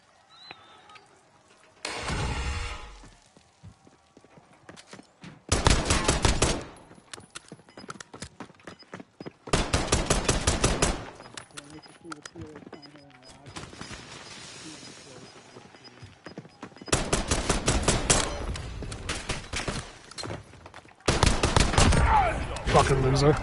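Machine gun fire in Warzone breaks out in several loud, rapid bursts of a few seconds each, separated by quieter stretches of game sound.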